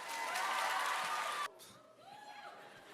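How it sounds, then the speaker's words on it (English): An audience claps loudly together for about a second and a half, then stops abruptly, leaving quieter room sound with a faint voice. "Now you clap."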